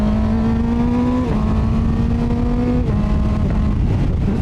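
A QJMotor SRK 921 four-cylinder naked motorcycle, powered by an old Brutale 920 engine, drones loud and close, its pitch stepping down and rising again between gear changes on the move.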